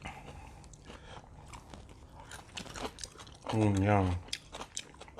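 Fresh kimchi crunched and chewed close to the mic at a ramen mukbang, a loud wet biting crunch in the middle amid faint smacking, with brief speech nearby.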